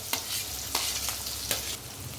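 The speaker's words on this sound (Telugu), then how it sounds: "Oil heat ఎక్కిందండి. ఆనియన్స్ వేసుకుందాం, కొత్తిమీర కూడా వేసుకుందాం." Onions and coriander leaves drop into hot oil and fry with a loud, continuous sizzle close by, broken by a few sharper spattering bursts.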